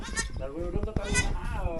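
A goat bleating in a village, quavering bleats close by mixed with a person's voice talking over them.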